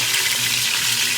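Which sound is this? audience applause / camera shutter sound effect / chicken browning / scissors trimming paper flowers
chicken browning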